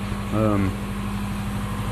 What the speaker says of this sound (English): All the way up there, the generator's running.